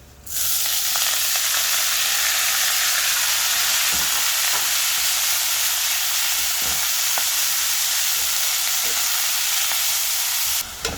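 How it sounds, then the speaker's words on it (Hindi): Chopped, washed fenugreek leaves and stalks hitting a pan of browned garlic, a loud steady hissing sizzle that runs nearly unbroken, with a few stirring knocks, close by. "इसे 1-2 मिनट के लिए भून लेते हैं।"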